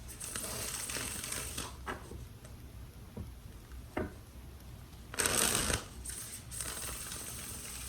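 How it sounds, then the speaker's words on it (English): Soft papery riffling and brief bursts of tarot cards being shuffled, with quiet taps between, close and fairly quiet. "Let's do 2 more shuffles for Leo"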